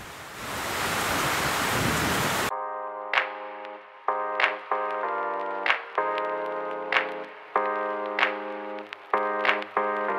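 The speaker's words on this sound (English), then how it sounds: "Oh, it's drizzling." Light drizzle falling over a cricket ground before a Kanga League match in Mumbai: a steady, fairly loud hiss for about two seconds, then giving way to ringing tonal notes with sharp repeated onsets.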